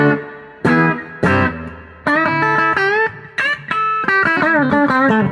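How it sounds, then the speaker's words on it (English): Electric guitar with a reverb pedal set higher than usual, a run of sustained notes and chords with a lingering wash after each one, played loud and close with no talking. "The first thing I'm going to add is some reverb"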